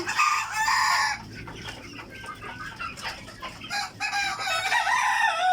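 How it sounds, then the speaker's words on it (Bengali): Egyptian Fayoumi chickens on a poultry farm cluck and crow close by, with loud rooster crows at the start and end and scattered clucks and bird calls in between. "এই যে মুরগিগুলো দেখতেছেন, এইগুলি আসলে অরিজিনাল মিশরীয় ফার্মি"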